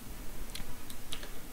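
Typing a colour code on a computer keyboard: a handful of light, quiet key clicks scattered over a steady background hiss.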